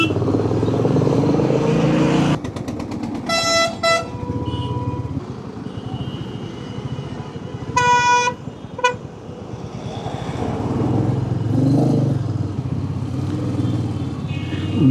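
A motorcycle rides along a rough highway in Bihar, its engine and wind rumbling steadily throughout, with passing vehicle horns tooting loudly and briefly around the middle.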